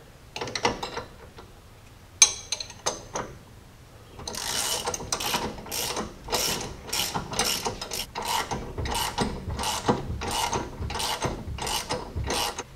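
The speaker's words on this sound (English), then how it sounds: "So I'm going to tighten up these bolts, not all the way tight yet" Quick ratchet clicks as bolts are snugged down on a Jeep sway bar disconnect install, a few scattered clicks at first and then a steady run of loud, close, rhythmic ratcheting strokes with no talk.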